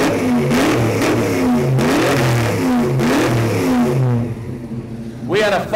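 A car engine at a car show revs hard several times in a row, each burst climbing then dropping back, loud and close, ending with a brief lull and one final rev.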